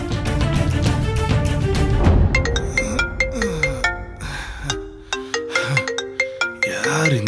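A mobile phone plays a bright, melodic ringtone up close, with a dense opening phrase followed by a sparser repeating pattern of chiming notes.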